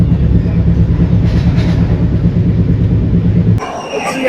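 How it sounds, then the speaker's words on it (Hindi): The Sambhajinagar–Mumbai CSMT Janshatabdi Express passenger train rushes past at high speed with a loud, heavy rumble and rattling wheels, then the roar drops off abruptly near the end. "भाई बहुत हैवी वाली स्पीड में आ रही है ट्रेन"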